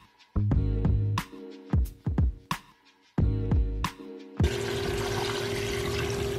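Boiled chicken broth is poured into a soup pot already holding cooked chickpeas and washed vegetables, a steady splashing rush lasting about two seconds after a run of bright, ringing percussive notes.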